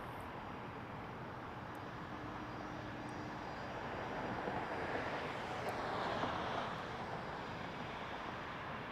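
Jazz RJ200 regional jet taking off from runway 23 at Toronto Pearson, a steady broadband jet roar heard from a distance that swells slightly midway, with no voices.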